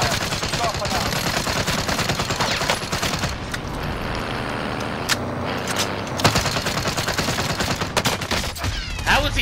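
Dense video game gunfire rattles in rapid bursts and overlapping shots, loud and close, with players talking over the shooting.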